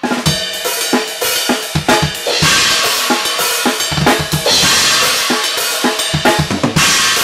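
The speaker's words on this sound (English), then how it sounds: "roll with the left hand on the snare right into that first bell hit like this" Busy alternating shuffle beat on a drum kit with crisp snare hits and a bright bell accent, a quick left-hand snare roll leading into the first bell hit, loud and close.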